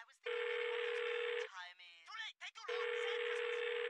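A phone call's electronic tone sounds in two long, steady bursts, with a short voice-like passage between them. The tone stays loud and continuous in the foreground.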